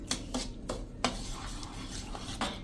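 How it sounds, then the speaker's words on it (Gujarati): Dosa premix batter being stirred with water in a bowl, a spoon scraping and clinking against the sides in a few distinct knocks amid a soft continuous swishing, close up with no talking. "એમાં આપણે પાણી નાખીને આપણે ઢોસા જેવું બેટર તૈયાર કરી લેશું"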